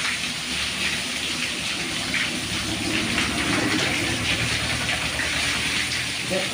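Water is sprayed into an AC unit's condenser and fan during servicing, producing a steady, loud, continuous hissing gush that holds without a break.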